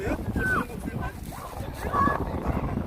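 Strong wind at a seaside fishing spot in Samcheonpo blows in a steady, rough roar close to the microphone while a voice talks over it.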